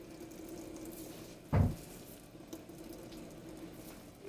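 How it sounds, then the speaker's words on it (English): Grated cassava is squeezed by hand to wring out its water, giving a faint wet trickle in a quiet kitchen, with one brief louder splash of liquid midway and another at the end. "So you have to squeeze the water out of the cassava before you add your flour."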